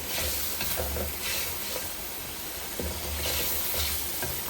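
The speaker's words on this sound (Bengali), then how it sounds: "পানি দিয়ে মশলাটা ভালো মতো কষিয়ে নেব।" Spice paste being stirred and sautéed with water in a pan for a chicken, potato and papaya curry: a steady sizzle broken by rhythmic scraping strokes of a spoon, close and clear.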